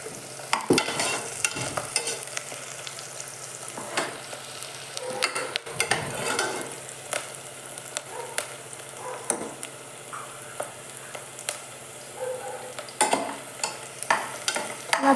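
Oil poured into a hot pan while kichadi cooks, with steady frying sizzle and scattered scraping stirs from a spoon against the pan, alone without talk.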